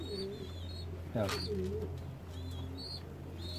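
Pigeons coo softly in a loft during the breeding season, a few low warbling calls with bird chirps and a steady low hum in the background.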